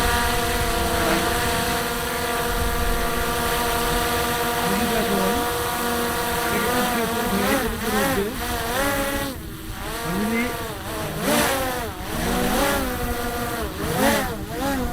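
A loud, whining motor hum with shifting pitch rises and wavers steadily, like a small drone taking off and hovering nearby.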